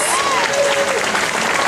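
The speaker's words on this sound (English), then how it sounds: "Everybody, please give a big round of applause for Minnie Mouse." A crowd at Disney California Adventure applauds Minnie Mouse at Duffy's debut, a continuous burst of clapping and cheering with a voice rising over the top.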